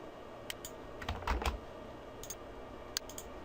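Copy-and-paste keystrokes on a computer keyboard: a few quiet, close clicks and short taps spread across the stretch, with a slightly denser cluster in the middle, over faint room hiss.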